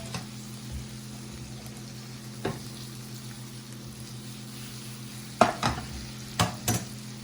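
Shrimp fry in a pan with a faint, steady sizzle, marked by a few sharp clinks and taps near the end.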